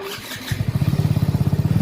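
A motorcycle engine catches and starts, settling into a fast, even putter of loud close-up firing pulses after a brief cranking scrape.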